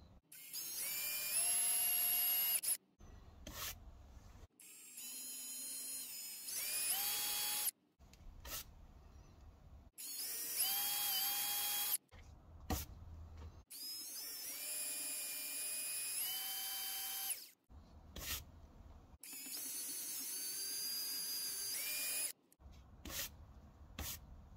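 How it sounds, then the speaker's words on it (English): Small power drill boring holes through the eye of a cast lead dumbbell, stepping up through bit sizes; loud whining bursts of drilling repeat several times, separated by short pauses and brief clicks. "I'm going to drill a little hole"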